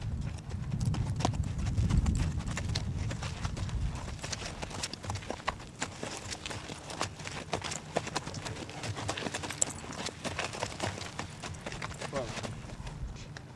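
Horse hooves clip-clop in a rapid irregular patter as the horse spins at speed, fairly close, with a louder rumbling burst early on and a voice talking over much of it.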